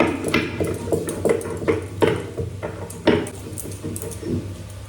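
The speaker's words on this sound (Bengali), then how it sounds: "গোটা জিরে আর একটুখানি শিলে বেটে নেব একটু আদা" Whole cumin and ginger are ground on a flat stone slab with a grinding stone, making a loud series of rhythmic knocking and scraping strokes, roughly two per second, close by.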